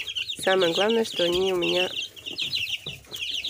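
Chicks in a brooder cheep and cluck in short rising calls near the microphone, two bursts of chirping early on, while someone talks over them.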